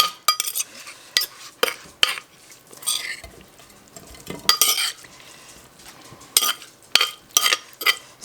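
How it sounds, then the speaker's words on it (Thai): A spoon scrapes and clinks as spicy papaya salad with konjac noodles, long beans and fish balls is scooped onto a plate, in repeated close, bright scraping strokes with wet stirring between them. "ตักใส่จานไปเลย"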